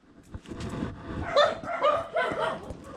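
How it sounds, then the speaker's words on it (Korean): A dog barks and yips several times at moderate distance in a quiet village in the Philippines, with sparse background sound. "개 짖는 소리 빼면"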